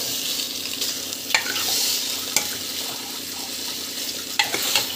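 Washed non-vegetarian meat is being sautéed and stirred in a pan, with a steady close sizzle running throughout and a few sharp utensil clicks or scrapes against the pan.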